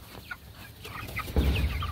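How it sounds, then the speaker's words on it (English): Chickens cluck and murmur while being herded toward a mobile chicken tractor, soft scattered calls rising to a louder, busier burst of fowl noise in the second half. "we're gonna move these birds"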